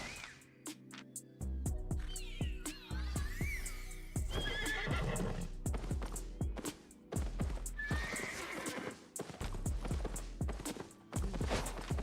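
A horse in the Albion Online video game neighs and whinnies several times over a steady run of clip-clop hoofbeats, loud and close, with no talking.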